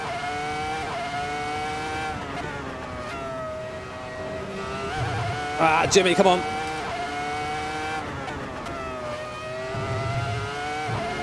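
Racing car lapping Monza at speed: a loud, close engine whines and rises through the gears, dipping under braking for corners and tire squeal, while someone talks over it.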